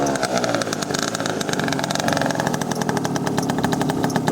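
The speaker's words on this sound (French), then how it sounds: "on va écouter le son. Alors attendez, parce que c'est pas facile de démarrer en même temps, qu'il faut l'accélérer un peu des fois" A Peugeot Kisbee scooter engine runs steadily with a buzzing two-stroke-like tone, rising as the throttle is blipped, loud and close throughout with no voices over it.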